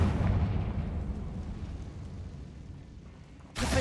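A spell explosion in a video game: a low rumbling blast fades slowly over a few seconds, then a second sharp burst hits right at the end, all fairly quiet.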